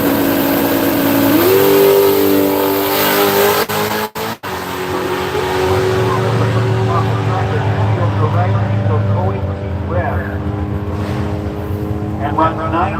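A drag race car launches on a solo run at Seattle International Raceway, its engine roaring loud and close, rising in pitch through the run and then fading as it pulls away, with people talking over it.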